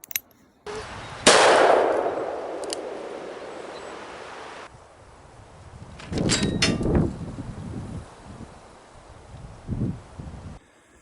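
A Taurus 692 revolver with a 3-inch barrel fires at a steel target 150 yards away. A sharp report is followed by a long, fading ring, and two more muffled bangs come later in the stretch.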